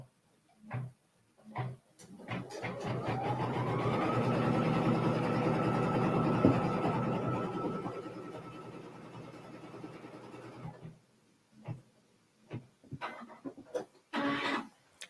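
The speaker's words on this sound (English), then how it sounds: "So we'll put this back in the machine, and now it's going to stitch this next line." A sewing machine stitches a straight seam across a quilt block, its steady motor whir rising and holding for several seconds before stopping, with soft handling clicks and thumps before and after and no talk.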